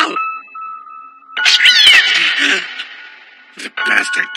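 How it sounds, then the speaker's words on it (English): A cat lets out a drawn-out yowl and then a burst of harsh snarling and screeching as it attacks, set in a dubbed anime horror scene. A second shrill cry cuts in near the end. "The bastard cat attacked me."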